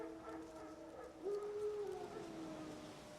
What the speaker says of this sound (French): Des loups? Non, des chiens sauvages.